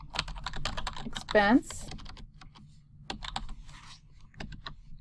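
Computer keyboard typing in a design app, a steady run of quick, light key clicks through the clip, with a brief louder burst near the middle and a short spoken word over it.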